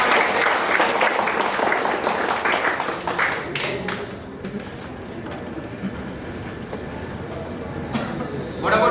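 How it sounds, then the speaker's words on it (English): An audience at an induction ceremony claps in steady, dense applause that gradually thins out, with voices audible beneath it. "Round of applause,"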